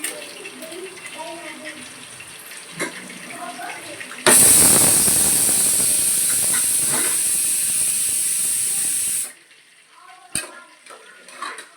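Mustard seeds and dried red chillies hit hot oil in a Tamil home kitchen, erupting into a loud, bright sizzling hiss that holds for about five seconds and then cuts off abruptly, with quieter kitchen clatter and soft speech around it.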